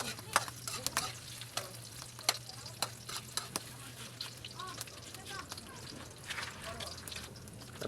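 Ginger and onion fry in a pan with a steady close sizzle, broken by repeated scraping and clanking stirs of a utensil, while a voice talks over the cooking.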